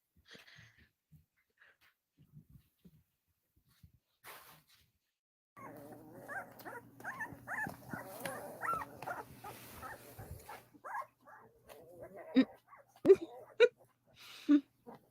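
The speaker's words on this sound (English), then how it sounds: "Look at the little puppies." Small puppies whimpering and yipping in a litter, a run of soft high cries in the middle stretch with people talking over and around them, then scattered louder squeaks near the end.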